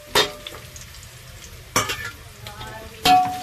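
Mustard seeds, cumin, curry leaves and chili hit hot oil in a pan for a Punjabi-style pakoda kadhi tempering, giving three sharp spattering bursts over a low background sizzle, close by.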